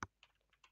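Password keys are tapped on a computer keyboard, a few soft, quiet clicks in an uneven rhythm, the first stroke sharper and louder than the rest.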